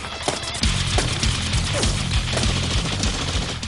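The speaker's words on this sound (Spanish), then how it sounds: "Se oían los disparos y se veía el resplandor de las ráfagas impactando alrededor." Intense gunfire during a military operation firefight: dense, continuous volleys of shots and rapid bursts crack and rumble for the whole stretch, loud and close, with no voices.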